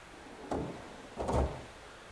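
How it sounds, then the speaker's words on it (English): A Sonic Tools S15 toolbox drawer slides open, then a second metallic slide-and-clunk follows as it locks; two close, brief mechanical sounds with quiet between. "Can't open the top one either."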